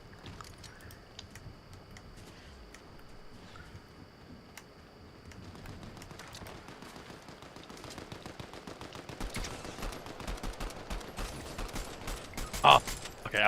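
Rapid video game gunfire rattles throughout, dense bursts of shots that grow louder and busier toward the end, with no voices heard.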